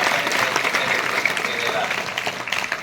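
Audience clapping at a gymnasium inauguration event, a dense burst of applause from a gathered crowd lasting a few seconds, with a voice talking over it.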